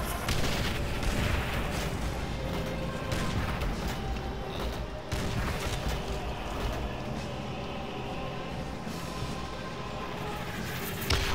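Dense, continuous gunfire and artillery-like booms fill a Call of Duty: World at War battle, with rapid overlapping shots and explosions at a loud, steady level throughout.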